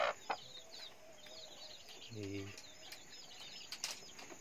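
Country hens on a poultry farm cluck softly amid faint chirping of chicks, with a short burst of rooster-like calling midway and some wing rustling; no talking.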